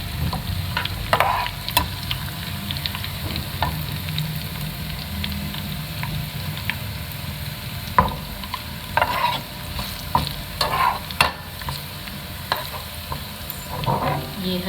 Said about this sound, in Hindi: मैं दोनों का तड़का लगा रही हूँ। के साथ ये बड़ी लाल मिर्चें ये भी डाल के